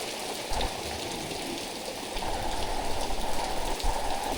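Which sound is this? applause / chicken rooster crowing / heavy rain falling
heavy rain falling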